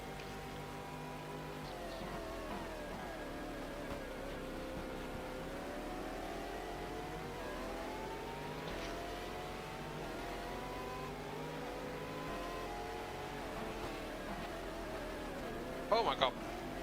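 A BMW race car engine in a racing video game's 2000 Sebring 12 Hours endurance race drones loudly and steadily, its pitch sweeping up and down through gear changes, with a brief sharp clatter near the end.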